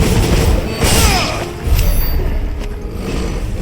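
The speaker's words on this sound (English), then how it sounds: "I keep trying to dodge the explosion as it just run away" Explosions and crashing impacts from the PlayStation 5 game Final Fantasy XVI, a dense, loud rumbling mix of booms and debris with sweeping whooshes over continuous battle noise, no voices.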